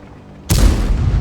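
A high-explosive tank shell fires in a video game about a Chieftain tank, a sudden loud close blast that cuts in after quiet and rolls on as a sustained heavy low rumble.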